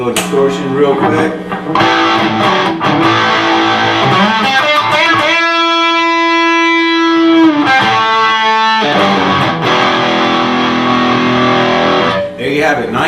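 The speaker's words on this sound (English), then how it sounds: "and then we'll go distortion real quick" A 1970 Dan Armstrong electric guitar plays a riff through distortion, loud gritty chords and a long sustained buzzing note, dense and close throughout.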